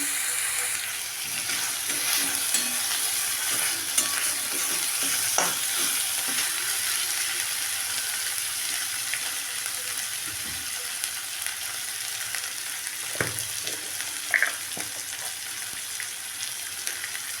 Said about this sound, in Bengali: এবার আমি মশলাটা ভাজা ভাজা করে নেবো একটু।